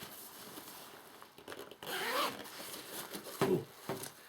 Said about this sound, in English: You can unzip the outer.